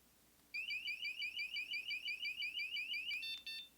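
A METAK door alarm system in emergency rescue mode sounds a loud, rapid electronic alarm of repeated high pulsing beeps, steady for about three seconds before a few shorter tones end it.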